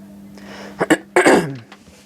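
A short, rough throat clearing comes in quick bursts up close, over a low steady hum in the background.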